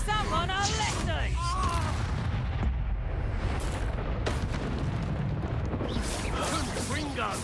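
Repeated Confringo blasting-spell explosions in the Hogwarts Legacy video game, booming bursts amid combat effects, with a character's voice shouting spell names over the blasts.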